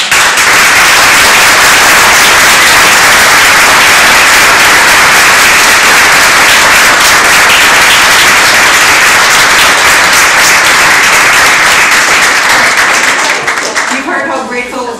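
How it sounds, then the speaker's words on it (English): Audience applauds after a presentation on ASR, a loud, dense and sustained burst of clapping that continues for many seconds before tapering off as a voice begins speaking. "let's give a round of applause again."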